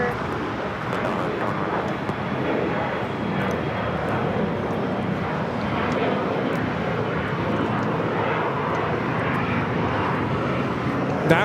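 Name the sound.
Alaska Horizon Embraer E175 jet taking off from LAX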